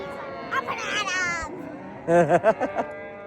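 Cattle mooing on a drive through steep, rough Utah desert country, a long low-pitched moo followed by a second loud, wavering bellow, close and clear with no talk over it.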